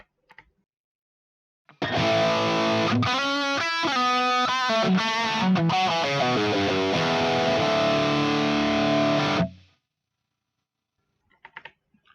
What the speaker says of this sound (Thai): มีแต่เสียงแตกอย่างเดียวเลย